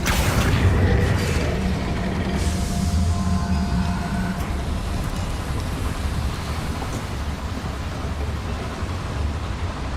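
A Confringo fire spell explodes in the Hogwarts Legacy video game, giving a loud, sustained booming rumble with a burst at the start that settles into a heavy, continuous roar.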